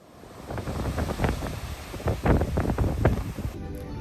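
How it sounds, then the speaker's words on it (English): Ocean waves rush and splash against the hull of a fast-moving Disney Wish cruise ship, a steady roar of surging water with repeated crashing bursts under constant wind noise. "the waves crashing on the ship was beautiful"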